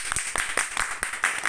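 Short burst of clapping for a trainee at a team training session, a few hands beating in an irregular rhythm, close and fairly loud, with no talk over it.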